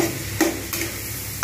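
Ground spices fry in oil under a continuous close sizzle, with a few sharp scrapes of a spoon stirring the pan at regular intervals.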